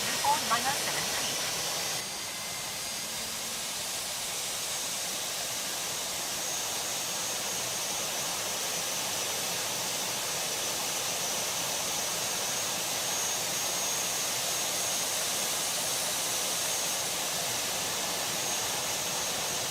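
A JetBlue jet airliner taking off in the Tower Simulator 3 video game at T.F. Green International Airport in Rhode Island, heard as a steady, even roar and hiss that continues unbroken throughout, with a voice talking underneath.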